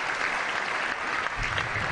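Audience applause follows an elite two-rider artistic cycling final at the German championships, dense and steady for about two seconds, filling the hall at a fairly close, even level.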